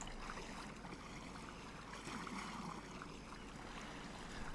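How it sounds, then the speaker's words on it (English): Water in the Arma 3 video game, a steady rushing and lapping wash like a stream or boat wake, fairly faint and continuous throughout with no talk over it. "That water's not annoying, is it?"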